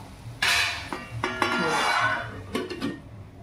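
A lid set down on a pan of capsicum and potato, giving a metallic clatter of pot and lid with several clinks, close up and fairly loud with no talk.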